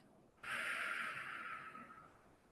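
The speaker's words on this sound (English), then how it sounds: "Breathe out." A slow, steady exhale of breath during a box breathing relaxation exercise, a soft airy hiss that starts abruptly and fades gradually over about two seconds, close and quiet.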